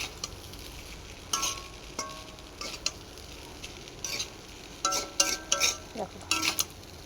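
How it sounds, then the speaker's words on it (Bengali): Poha being stirred in a pan with chopped coriander leaves: faint background sizzle broken by irregular clusters of spoon scrapes and clinks against the pan, growing busier toward the end. "কুচিয়ে রাখা ধনেপাতা দিয়ে এবার মিক্স করে দেবো।"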